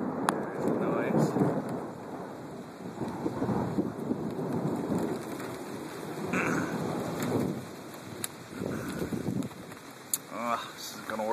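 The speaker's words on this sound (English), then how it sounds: "Two huge bolts of lightning to my right. And there's the noise." Thunder rolls after two huge lightning bolts during a Brookhaven thunderstorm in the mountains, a broad low rumble that rises and falls over the whole stretch, mixed with steady rain and wind.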